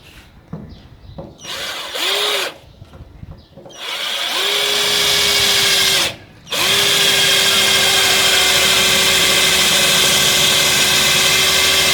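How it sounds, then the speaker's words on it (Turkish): A power drill boring small holes while trailer wiring is installed, with a few short bursts followed by a long, steady, loud whine that briefly stops and restarts. "Önce küçükleri delik vereceğim"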